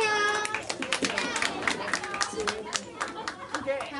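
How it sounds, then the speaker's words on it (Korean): Audience clapping for primary school children at a Korean community event, with scattered claps mixed with crowd chatter and children's voices. "박수 한번 쳐주세요."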